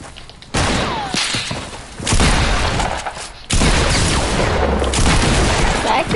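Double-barrel shotgun fire in the video game Fortnite, loud heavy blasts and crashing bursts in two or three sustained surges, close and harsh, with no talking over them.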